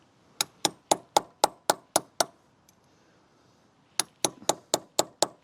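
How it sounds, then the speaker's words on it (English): Sharp metallic hammer strikes bend a safety washer on a Kawasaki Z1000SX motorbike sprocket: a quick series of eight evenly spaced blows, a pause, then another rapid run of about seven, close and crisp in a quiet workshop. "last thing to do, get this safety washer bent over"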